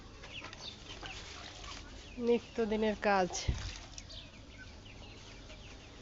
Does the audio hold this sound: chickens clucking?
yes